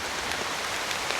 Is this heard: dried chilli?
no